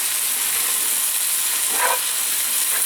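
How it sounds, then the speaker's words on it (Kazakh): Liver and tomato frying together in a hot pan, giving a steady, dense sizzle and hiss close up that runs unbroken throughout, with one brief louder crackle near the middle and no talk. "Енді қазір мына барлығы қосылып әдемілеп қуырылады"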